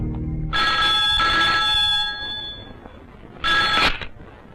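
A telephone rings in a tense Bollywood action film scene, two loud, bright electronic ring bursts separated by a short gap, with no talk over them.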